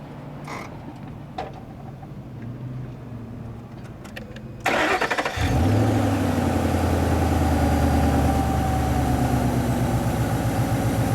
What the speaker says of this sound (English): All right, so let's start it up. We'll listen to her.